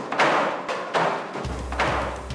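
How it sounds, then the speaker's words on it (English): Repeated heavy banging as workers knock crystallized rock sugar out of pails, three or four loud thuds about half a second to a second apart, close by and with no talk. "Did you hear that banging?"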